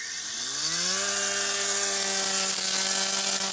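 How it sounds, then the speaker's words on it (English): A Dewalt 20V brushless string trimmer spins up to a steady high whine and cuts through long weeds and quack grass, loud and close, with a constant buzzing tone. "cutting the grass is very, very easy. It just plows through all these long weeds, quack grass, whatever."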